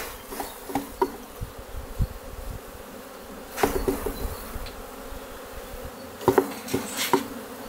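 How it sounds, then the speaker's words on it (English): Honeybees buzz around an open hive as extra bees are shaken in, a soft continuous hum broken by a few sharper knocks and bursts of louder buzzing. "we're also gonna shake some extra bees in"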